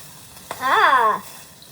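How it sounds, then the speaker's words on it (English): A brief burst of sizzling as water hits meatballs in a frying pan, about half a second, rising sharply and fading, with a faint steady hum underneath. "Hear that sizzle? And it just rehydrates the balls."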